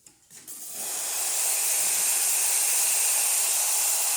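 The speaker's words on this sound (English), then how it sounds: "Nice strong steam," A La Marzocco GS3 espresso machine steam wand bursts into a loud, steady hiss after a brief quiet start, holding at full strength to the end.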